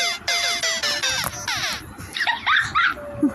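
A dog barks in quick yips and then whimpers with high, wavering whines, close and fairly loud, with a few overlapping cries.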